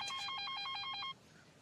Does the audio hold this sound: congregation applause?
no